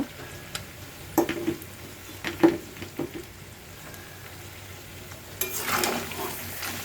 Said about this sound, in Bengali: পেঁয়াজের সাথে গরম মশলার সাথে আরও কিছুক্ষণ সময় নিয়ে ভেজে নিই